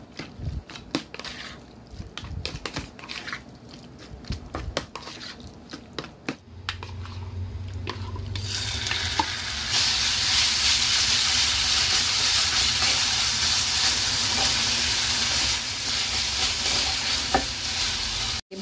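Onion and chicken stir-fried in a pan with sweet soy sauce, salty soy sauce and oyster sauce, sizzling loudly and steadily with scraping stirs throughout, the frying growing louder partway through.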